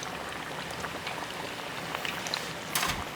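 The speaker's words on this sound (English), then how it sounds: "We've got a really, really nice fry going." Chicken tenders for Bang Bang chicken deep-fry in oil at about 300 to 350 degrees. A steady, close hiss and crackle runs throughout, with a brief louder spatter near the end.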